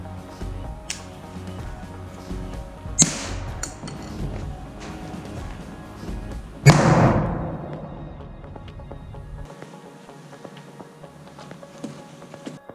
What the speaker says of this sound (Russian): в момент взрыва корпус разлетается на множество мелких осколков